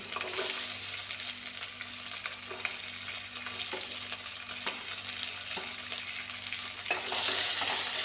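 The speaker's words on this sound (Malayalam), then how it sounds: "സവാളയും കൂടി ഇട്ട് നന്നായി വഴറ്റിയെടുക്കണം" Chopped onion sautéing in a pan for a green tomato stir-fry, a steady broadband sizzle with scattered clicks of a spoon stirring, growing a little louder near the end, with no talking.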